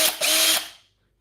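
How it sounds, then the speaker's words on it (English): A Makita power drill fitted with new brushes whirs briefly at high speed, a short loud burst with a slight dip before spinning down and stopping. "So that's my new repair drill for a while."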